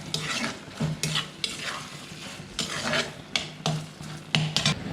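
Tomatoes sautéing in a pan with rock salt for egg curry, a soft sizzle under repeated scraping stirs of a spoon against the pan, several distinct strokes at an irregular rhythm, close and clear with no voices.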